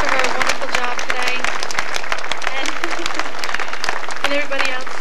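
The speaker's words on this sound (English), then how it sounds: "I'd like to give them a big round of applause." An outdoor concert crowd at Bryant Park applauds loudly and continuously, dense clapping with voices and cheers mixed in close by.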